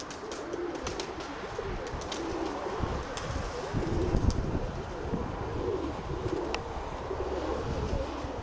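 Pigeons coo softly and repeatedly in a loft, faint and low, under light rustling and a murmur of distant talk.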